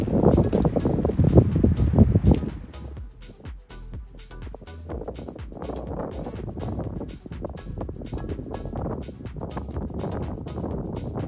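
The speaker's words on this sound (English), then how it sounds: "It's still really windy, so hopefully you can hear me." Strong wind on an exposed mountain summit on Rumford Whitecap buffets the microphone in rough gusts, loud and continuous with brief flutters and no clear speech.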